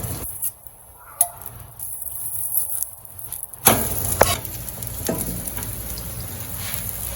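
An aloo paratha cooks on a hot griddle, a quieter stretch with a few clicks giving way to a louder, steady sizzle and crackle about halfway through, with occasional sharp taps.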